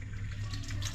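Running tap water pours steadily in a brief, close, continuous rush while something is washed.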